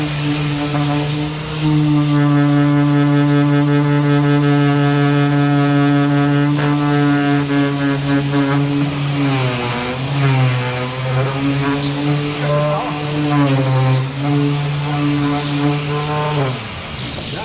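Hart electric orbital sander from Walmart running at its highest speed, a loud steady motor whine with strong harmonics that wavers in pitch as the pad is pressed, continuous for the whole stretch.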